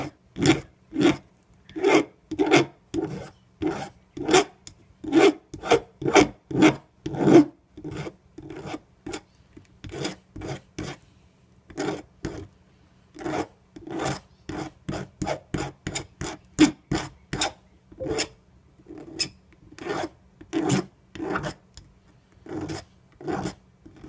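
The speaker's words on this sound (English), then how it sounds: "handy old file, rougher the better, and we just file it away" Rough file rasps the end of heavy 10-gauge wire held against a block, in quick repeated back-and-forth strokes, close and dry, with short pauses between bursts.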